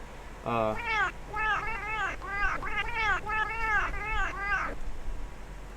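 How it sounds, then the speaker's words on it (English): Bella the cat meows repeatedly in a steady run of about ten rising-and-falling calls, close and clear, with nothing else heard. "here's Bella's. It's just her meows"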